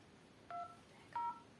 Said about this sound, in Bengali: চলো ডায়াল করি এবার।